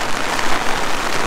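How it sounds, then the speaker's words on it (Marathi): Rain falls steadily on surfaces at a campsite near abandoned houses, a dense, even patter close by that continues without pause for a brief moment. "काय पाऊस पडतोय रात्रभर, बाप रे बाप"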